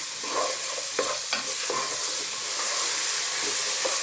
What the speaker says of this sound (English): we're just going to kind of throw these around in the pan for about 3 or 4 minutes